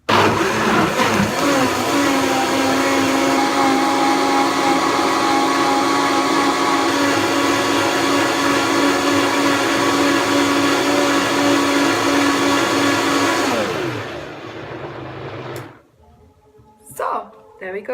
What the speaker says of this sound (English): we're gonna whisk that up now with my lovely Vitamix